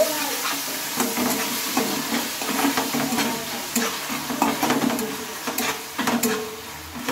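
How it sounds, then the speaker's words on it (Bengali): Tomato sauce and soy sauce being mixed in a frying pan for a bread fry dish: continuous sizzling with rhythmic spatula scrapes and stirring knocks, close and fairly loud. "এবার আমি একটু ভালোভাবে একসঙ্গে সবগুলোকে মিশিয়ে নেব"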